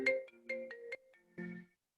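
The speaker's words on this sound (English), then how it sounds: "There's a phone ringing." A phone rings during a lecture, a few short melodic ringtone bursts repeating in quick succession, clear and fairly close in an otherwise quiet room.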